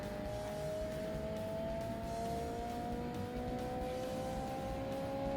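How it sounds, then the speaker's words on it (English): Hatchback engines drone and rise in pitch together during a Forza Motorsport race, their steady tones sitting fairly quietly and distantly under the game sound. "the engines in these cars are nowhere near as loud as the GT cars"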